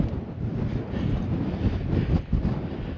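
Strong wind buffets the microphone on an open fellside on Gibson Knott in the Lake District, in a steady low roar, with gusts swelling and dipping throughout and no voices.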